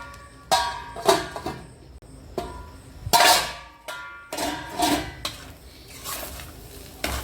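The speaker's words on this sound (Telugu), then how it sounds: "పెప్పర్ పౌడర్ని యాడ్ చేసుకోవాలి ఇది వేగంగా మొత్తం కలుపుకోవాలి" Egg fried rice with pepper powder being mixed briskly in a metal pan, a run of loud close scraping and clanking strokes in uneven rhythm, with faint sizzle between them and no speech.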